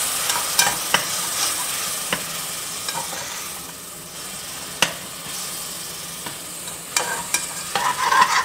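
Onions sautéing in a pan with a splash of water for a north Indian mutton gravy, a steady close sizzle broken by sharp scraping and stirring clicks throughout.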